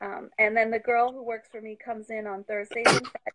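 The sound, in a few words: sneeze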